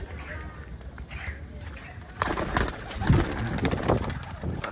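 Old-breed high-flying pigeons from Khulna coo softly at a distance, their low murmurs mixed into outdoor background activity that grows louder and busier partway through.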